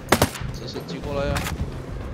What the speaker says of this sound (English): 我发现拿 LMG 打直升机超快的，一下子就把它打下来了